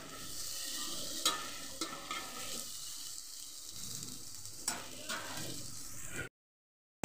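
Food being stirred in a pan during home cooking, with a steady sizzle of frying under scraping stir strokes, several sharper clinks of the utensil against the pan, then a sudden cutoff near the end.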